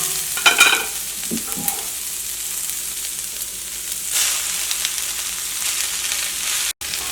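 Chapati pieces and two colours of capsicum are stirred in an open frying pan, with a steady close sizzle and occasional scraping clatter of the utensil across the pan, running continuously without talk.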